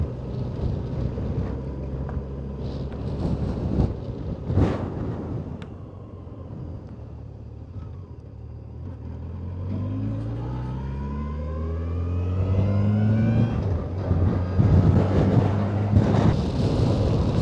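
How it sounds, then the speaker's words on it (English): Wind buffets a moving rider on a breezy Peak District road, a loud rumbling roar with gusts, while a vehicle engine's rising tonal whine sweeps upward in the second half. "it tends to get a bit breezy and noisy along this stretch"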